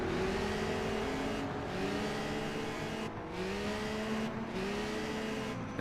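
Historic race cars at the Dundrod Tourist Trophy circuit roar past one after another, engines revving and rising in pitch with brief gear-change dips, loud and close for several seconds.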